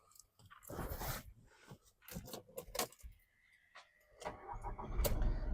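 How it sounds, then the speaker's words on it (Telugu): A 2014 Volkswagen Vento diesel cranks and catches, preceded by clattering and handling noises and a jangle of keys, with the engine settling into a steady running rumble toward the end. "మీకు ఒకసారి ఇంజన్ స్టార్ట్ చేసి చూసుకుందాం."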